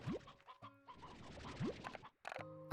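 Chickens in the Slime Rancher video game cluck and squawk in short, overlapping bursts with a couple of rising calls, fairly close and moderately loud, with a brief silent gap before a final burst.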